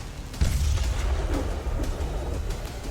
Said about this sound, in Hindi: देखिए कैसे आसमान से आती मिसाइल सीधे इस मिसाइल लॉन्चर पर गिरी और लॉन्चर धुआं हो गया है